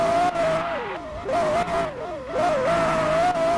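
A car drifts in a racing video game, its engine tone holding high and steady, wavering and dipping as it slides and recovers, with continuous loud road and tyre noise.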